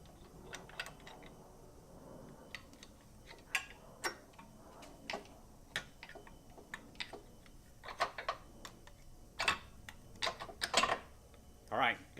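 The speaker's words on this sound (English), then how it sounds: "If you're using a ratcheting wrench, be careful not to loosen up this thing so much that you can't pull your ratcheting wrench off the bolt." A ratcheting wrench clicking on a bolt while removing the rear engine mount of a 2018 Honda Civic Type R, in scattered sharp ticks and short bursts of clicks, close and moderately loud.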